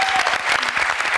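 A studio audience claps in a dense burst of applause, loud and close, with a faint voice under it on a Tunisian TV game show.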